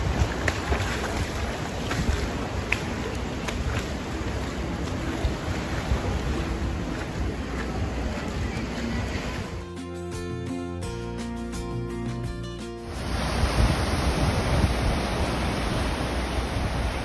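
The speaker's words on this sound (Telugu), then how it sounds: "వచ్చిపోయే అలలు" Atlantic surf rolls in at Daytona Beach around sunrise, a continuous broad wash of breaking waves mixed with wind buffeting the microphone, with a brief tonal interruption partway through before the roar resumes.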